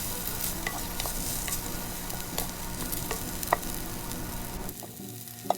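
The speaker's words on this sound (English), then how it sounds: "Cook that maybe for a couple of minutes," Yellow rice with chicken stirred constantly in a hot pan, a continuous sizzle broken by light scraping and clicks of the spoon, close up, easing off near the end.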